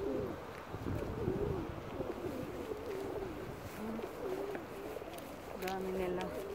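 Pigeons at Mandraki harbour in Rhodes, Greece, repeated soft low cooing calls close by against outdoor background noise, with people talking nearby.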